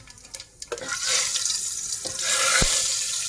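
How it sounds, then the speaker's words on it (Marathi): Mustard seeds and cumin hit hot oil after a few light clicks, breaking into a steady, close hiss of sizzling with scattered sharp pops. "बघा आता आपलं तेल गरम झालेलं आहे. हे राई आणि जिरे मिक्स करून घालत आहे."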